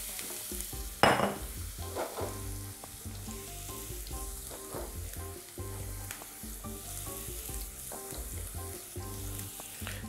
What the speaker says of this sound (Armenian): և համեմված բուսայուղի մեջ տապակում ենք գազարը։